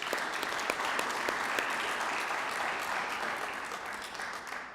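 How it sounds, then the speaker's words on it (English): Steady applause from an audience at an institutional award ceremony honoring graduating students, many hands clapping in a full, continuous wash that holds for several seconds before easing off. "Let's give them a round of applause."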